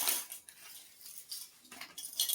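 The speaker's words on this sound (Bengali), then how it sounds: "এই চামচ, ওই যা বার হয়ে গেল, এই চামচগুলো 10 টাকা পিস।" Colourful plastic spoons bought at a fair are handled, giving light clicking and rattling bursts at the start and again near the end, with quiet gaps between.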